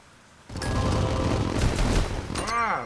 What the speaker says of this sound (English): Ah, the fireworks.